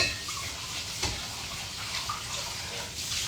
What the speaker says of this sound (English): I'm going to rinse this out again,